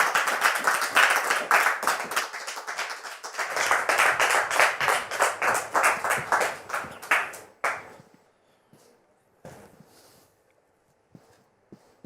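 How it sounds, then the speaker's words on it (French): Studio audience clapping to welcome a guest onto a show, a dense burst of many hands that swells, then thins into scattered individual claps and fades to near silence. "Merci de le recevoir sous vos applaudissements."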